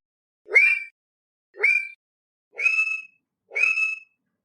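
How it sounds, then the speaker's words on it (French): Male West African frogs from Ivory Coast calling four times at even intervals, each a short rising whistle-like note with a bright ringing tone, clear and close against silence. "Plus précisément, ce sont des grenouilles d'Afrique occidentale, de Côte d'Ivoire, des mâles pour être parfaitement exact."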